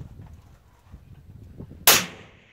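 A single loud gunshot cracks near the end after a stretch of low background rumble, followed by a brief fading tail.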